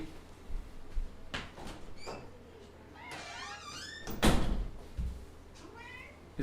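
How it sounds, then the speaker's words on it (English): Doors close inside a video game: a few soft thuds and one sharper bang, alongside high cat-like meows and quiet voices. "I think it's just doors being closed."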